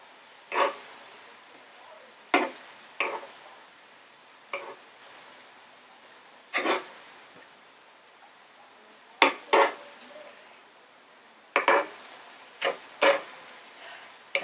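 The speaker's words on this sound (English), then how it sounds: "Yes, I'm cooking with a spoon right now" A spoon stirs cheese buldak noodles in a pot, making sparse, scattered clinks and scrapes. Short bursts come at irregular intervals over a quiet background.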